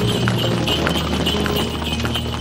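Horse hooves clip-clopping as a radio drama sound effect, a steady rhythmic trot of regular hoof taps over a constant background bed, close and moderately loud with no talk.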